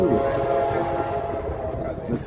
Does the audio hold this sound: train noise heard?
yes